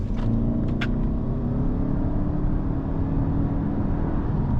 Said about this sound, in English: Pulling out of here, we'll get another acceleration bit. Again, we are in sport mode.